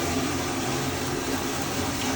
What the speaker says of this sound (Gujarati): ઓટોમેટિક પાણી આવી જાય